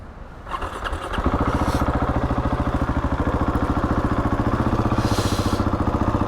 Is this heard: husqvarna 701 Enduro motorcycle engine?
yes